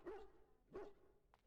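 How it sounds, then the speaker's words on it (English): A dog in the fantasy video game Dragon Age barks twice in quick succession, short, clear woofs separated by a brief pause and followed by a faint, small yip. "And a doggy"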